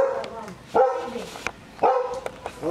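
A dog barks a few times in short sharp bursts, close by, with quieter yips and some background noise between barks.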